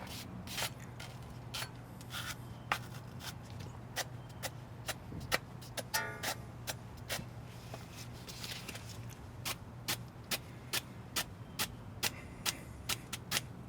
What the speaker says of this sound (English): with my wire brush, I'm just going to go ahead and gently clean off the valleys that the caliper anti-rattle clips will ride in